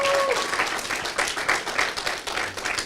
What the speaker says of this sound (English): I think that you in the audience honestly give these two young people a round of applause